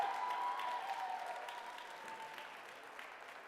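Teams at a FIRST Tech Challenge robotics qualifier in Washington, DC applaud and cheer for the judges, a steady wash of clapping with a few whoops, fairly distant and gradually fading.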